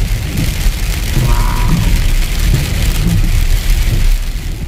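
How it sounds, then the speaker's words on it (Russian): Dense, steady drumming of hail on a hard surface, loud and close, with a low rumble underneath and no voices. "Град пошел"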